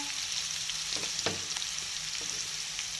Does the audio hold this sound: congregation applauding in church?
no